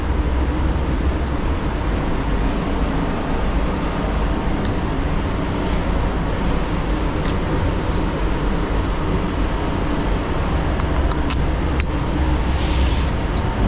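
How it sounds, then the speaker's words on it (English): A Techna spray gun sprays black base coat onto a Cadillac Escalade, giving a loud, steady hiss of compressed air and atomized paint that runs unbroken and without speech. "So I'm just gonna spray my base over it, over the whole thing"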